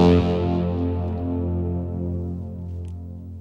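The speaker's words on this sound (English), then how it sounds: "It's a Sine Bass Swell that sounds something like this." A sine bass swell patch made in the VPS Avenger synth plays alone as one deep, sustained low note that rings out and slowly fades over a few seconds.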